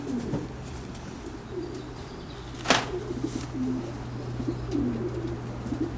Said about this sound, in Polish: Także fajnie mieć gołębie